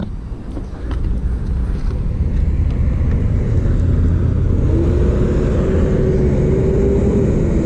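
Dual motor Tesla electric car driving past, a loud, steady road rumble and tire roar swelling after the first second, with a faint rising whine near the end.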